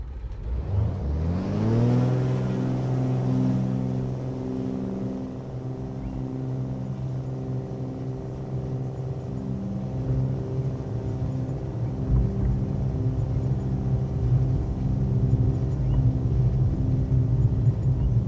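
Flysimware Chancellor piston engine in MSFS 2024 spooling up to full throttle for takeoff, rising quickly in pitch over the first two seconds, then holding a loud, steady droning roar with strong harmonic hum.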